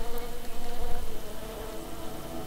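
A housefly buzzes steadily in The Plan, a game seen from a fly's point of view, a continuous close drone with slight wavering and no voices.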